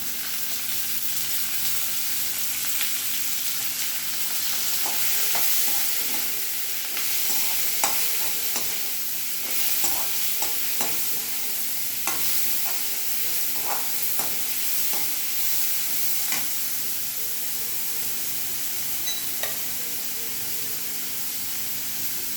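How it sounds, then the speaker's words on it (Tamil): Grated carrot, onion, coriander and green chilli are stir-fried in a pan, giving a steady, close sizzle with scattered scraping and clinking stirs throughout, and no talk. "இப்போ துருவி வச்சுருக்க கேரட்டு, வெங்காயம், கொத்தமல்லி, பச்சை மிளகாய் எல்லாம் அதில் சேர்த்துடலாம்."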